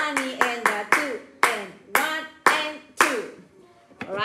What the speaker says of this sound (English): So I'm gonna clap and count the whole 79.